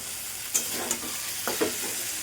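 Tomato going into a pan of frying potatoes and ginger paste, a steady sizzle close by with several light utensil taps and stirring scrapes.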